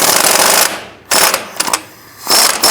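Power tool, an impact wrench, spinning off the lower shock absorber mounting bolt on a 2005-10 Jeep Grand Cherokee: three loud, close, rattling bursts of hammering whir, separated by short pauses.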